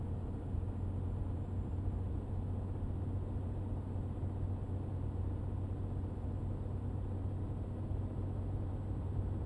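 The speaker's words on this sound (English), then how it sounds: "A very loud truck too, isn't it?" A loud truck engine in the driving game Euro Truck Simulator 2, droning steadily with a heavy low rumble throughout, constant and unbroken with no talk.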